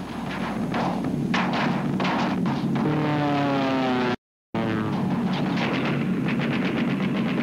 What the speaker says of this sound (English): make their bombing run as the flak leaps up